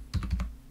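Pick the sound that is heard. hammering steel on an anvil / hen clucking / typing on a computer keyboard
typing on a computer keyboard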